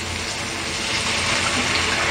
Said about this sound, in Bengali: ডিমটা সিদ্ধ হওয়ার জন্য একটু পানি দিয়ে দেব